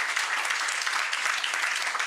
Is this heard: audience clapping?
yes